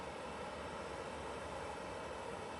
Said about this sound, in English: Do have a TUI pushing back.